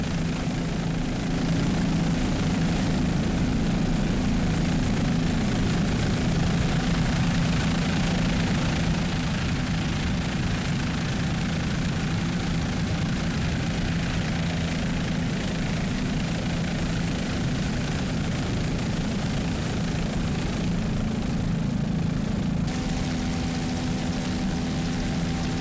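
Racing powerboat engines in a Daytona grand prix race, a steady loud droning roar that holds throughout with a faint shift in tone near the end, heard alone.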